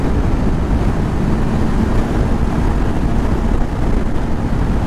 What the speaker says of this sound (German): Aber der Wind ist krass.